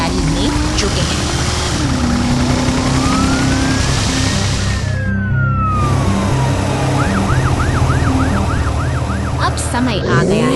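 A police car siren wails loudly and continuously, sweeping up and down, then switching to a faster rapid yelp pattern, amid heavy traffic rumble and other vehicle noise.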